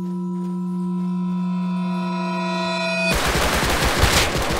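Gunfire in the video game Rust, during a battle royale match, breaks in as a rapid, loud burst of shots after a steady electronic tone.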